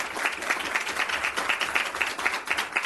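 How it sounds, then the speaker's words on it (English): Warm round of applause from an audience at a Fort Worth ISD school board meeting, many hands clapping steadily at moderate volume, with faint crowd murmur underneath. "If we could give him a round of applause."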